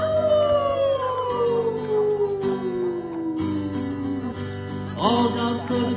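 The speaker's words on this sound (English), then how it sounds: "the old coyote howls" An old coyote howling in a song about animals, a long falling wail that slides down over a sung, musical backing, followed by a higher yelping cry near the end.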